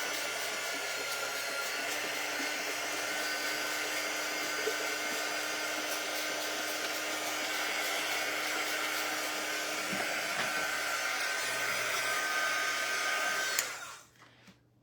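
A hair dryer blows steadily and loudly on tissue paper coated with Mod Podge, a continuous close whoosh with no talk, cutting off abruptly near the end.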